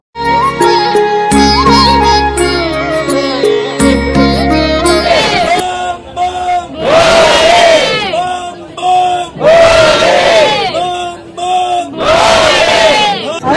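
A crowd of pilgrims queuing at the Omkareshwar temple on a rainy Monday raises loud chants together, in rhythmic bursts that rise and fall with short gaps between them.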